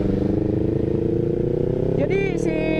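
A remapped Kawasaki Ninja 250 Fi motorcycle engine holds a steady, loud, droning rev while riding on a busy road, with a brief rising whine near the end.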